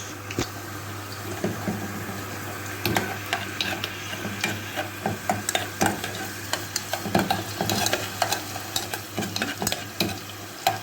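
Garlic, onion and tomato paste sauté in a pan while being stirred for stuffed potatoes with chicken, giving a steady sizzle broken by repeated scraping and clinking strokes of a spoon, close and fairly loud with no talking.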